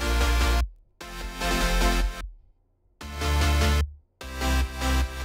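Future bass synth bass and chords play in chopped, sustained blocks with abrupt silent gaps between them, loud and full with a heavy low end, no voices.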